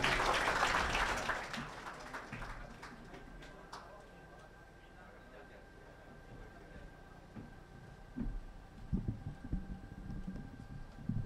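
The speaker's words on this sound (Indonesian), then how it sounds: "Kita berikan tepuk tangan Bapak Ibu." An audience at a bank merger ceremony applauds; the applause is loud at first, then fades within a couple of seconds as an announcer starts speaking over the hall.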